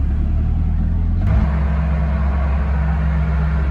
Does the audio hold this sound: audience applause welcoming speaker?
no